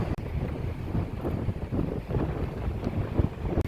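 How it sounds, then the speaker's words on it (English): Ocean waves crash against a jetty on the Pacific coast, a steady churning roar buffeted by strong wind across the microphone, loud and continuous throughout. "The waves are crashing pretty good out here."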